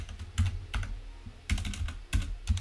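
Clacky keystrokes on a brand-new computer keyboard come in short bursts with brief pauses, close and fairly loud, with no voice over them.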